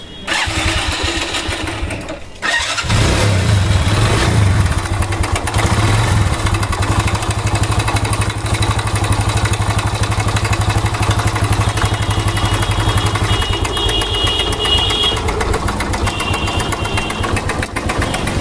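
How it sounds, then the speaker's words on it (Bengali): A motorcycle engine with a bad mechanical noise starts after a couple of seconds of quiet rattling, then idles loudly and steadily close by, a rough, uneven chatter running to the end. "তো এই বাইকের ইঞ্জিনের ব্যাড নয়েজ"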